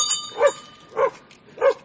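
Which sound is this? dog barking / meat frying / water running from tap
dog barking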